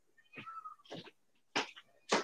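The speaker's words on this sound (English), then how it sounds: "Hi, Kitty" A cat gives a couple of soft meows indoors, followed by a few sharp breathy noises, fairly quiet and close with no speech over them.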